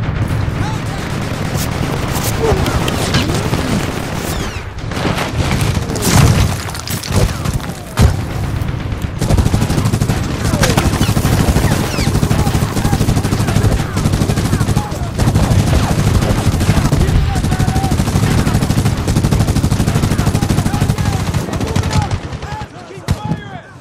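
Sustained machine gun fire and gunshots roar in the shooter video game Medal of Honor Danger Close, loud and dense with booming bursts throughout, while soldiers speak over the battle.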